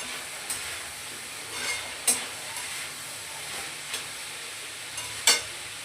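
Vegetables stir-frying for Chinese noodles give a steady sizzle from the hot pan, broken by scraping strokes of the spatula. Sharp clatters of metal on the pan come at intervals, the loudest near the end.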